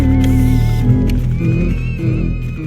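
Dense electronic music from Luigi's Mansion with a sustained high lead line over a rhythmic low bass pattern, loud and continuous throughout.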